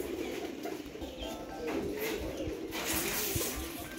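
Pigeons coo softly on a rooftop in the morning, low rolling calls repeating over a steady background hum of outdoor noise, fairly faint and a little distant.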